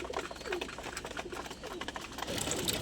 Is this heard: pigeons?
yes